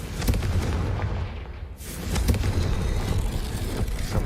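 A Confringo fire spell bursts in Hogwarts Legacy with a loud booming explosion, followed by a sweeping whoosh and rumbling rolling on for several seconds.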